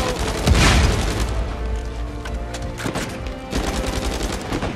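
Gunfire in Uncharted 4, a loud booming burst near the start followed by a steady run of repeated shots and thuds under dense game noise and music, with no talking.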